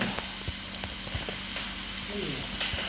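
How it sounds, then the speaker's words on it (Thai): Steady rain patters throughout a Roblox garden game, a dense hiss with scattered louder drops, alone and continuous. "ฝนตกอีกแล้วไม่ชอบให้ฝนตกเลย"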